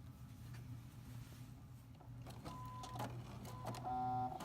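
Quiet, steady hum of a sewing machine stitching a quilt border seam, with soft clicks and a brief higher whine near the end.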